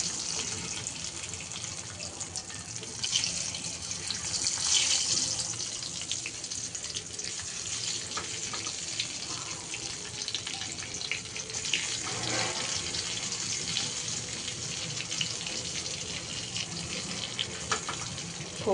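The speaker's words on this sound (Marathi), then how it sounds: "आता याच्यात वांगी अशी फ्राय करायची." Eggplant pieces frying in hot oil in a pan tempered with asafoetida, giving a steady, fairly loud hiss and crackle throughout with no talking.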